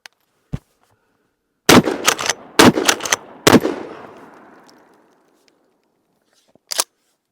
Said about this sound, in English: So let's see how quickly I can pump off 3 shells.